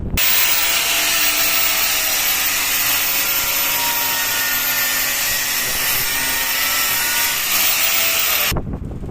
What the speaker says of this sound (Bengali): এটা পাঞ্চ করার ক্ষেত্রে এটি হলো হাইড্রোলিক পাঞ্চ মেশিন